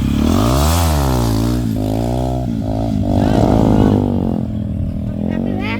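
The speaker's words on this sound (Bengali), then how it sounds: "তো এখানে উড়াধুরা বাইক স্ট্যান্ড চলতেছে" A motorcycle engine revs loudly and close during bike stunts, climbing and falling in pitch over several throttle bursts, with voices talking over it.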